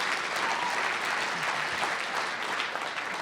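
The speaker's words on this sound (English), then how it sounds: "you can clap for that, you can clap for that." Dense, steady clapping from a large audience at a Legacy of HOPE special presentation, a continuous wash of many hands held at an even level for several seconds with no talk over it.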